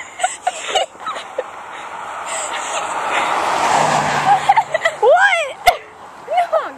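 Cars passing along a road in Hawaii, a rising and fading engine and tyre swoosh building through the middle, with people talking and calling out near the microphone.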